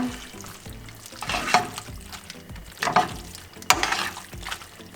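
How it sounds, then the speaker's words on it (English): Cheesy seafood pasta sauce in a pan on very low heat, with gentle bubbling and sizzle broken by a few louder stirring scrapes and clacks, close and without talk. "So I'm going to bring the temperature to a simmer at the lowest heat possible."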